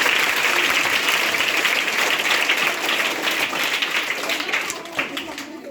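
A large audience at a public awareness programme breaks into strong, continuous applause, a thick roar of clapping that holds steady and then thins slightly toward the end.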